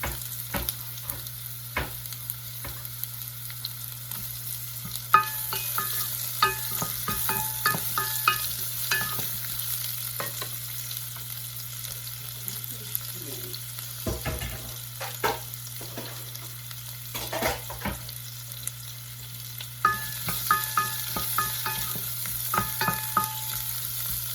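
Ginger and onion sauté in a hot pan, a steady close sizzle and frying hiss running throughout with repeated stirring scrapes and clinks of a utensil, no talk.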